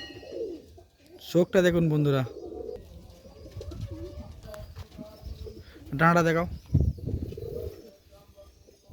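A Kalpeti pigeon, held up for display, gives low, soft coos in short bursts between people talking close by.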